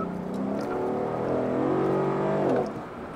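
A deep V8 engine of a 2014 Mercedes-Benz SL500 revs and hums under load for a few seconds, its pitch rising slightly before dropping away.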